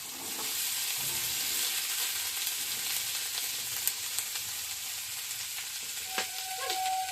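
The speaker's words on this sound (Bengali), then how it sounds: "সর্ষের তেল দিয়ে দিলাম। গাজরটা দিয়ে দেবো, ভেজে নেব" Carrots fry in mustard oil in a pan with a steady, close hiss that runs through the whole stretch, crackling now and then with a few faint clinks of utensils and no talk.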